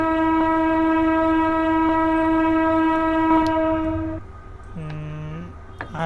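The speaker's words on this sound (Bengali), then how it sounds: "আর একটা কড়া হর্নের সাথে আমাদের যাত্রাটা শুরু করি" A loud, sustained multi-tone diesel locomotive horn blasts for about four seconds in a train simulator recreating the Teesta Express at Kamalapur, Bangladesh, then drops away to engine idle with a short lower horn-like tone as the locomotive begins moving.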